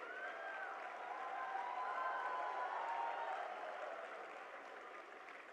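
Audience applause at a youth leaders' dialogue event in Bharat Mandapam, a steady, moderately loud wash of clapping with some crowd noise and faint tonal sounds, sustained throughout before easing slightly at the end.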